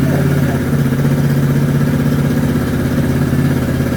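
A Suzuki DR200SE farm motorcycle idles close by, its single engine putting out a steady, even burble throughout.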